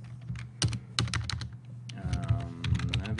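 Computer keyboard typing while editing website code, a quick run of clustered keystrokes with a brief pause near the middle, close and clear with no talk.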